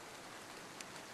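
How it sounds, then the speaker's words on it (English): Steady rain pours during a storm outdoors, a dense, even hiss of drops filling the whole moment with one brief sharper splash near the end. "I believe the rain is actually increasing in intensity"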